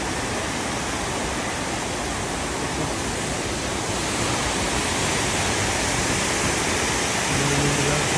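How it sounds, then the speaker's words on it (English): Water pours continuously at a rainforest natural bridge, a loud, dense roar of falling and rushing water close by that holds steady with no voices. "This is where all of the water is coming from."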